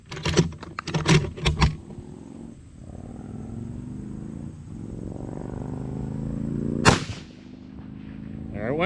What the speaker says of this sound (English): Second shot, 600 yards, 12-mile-an-hour wind.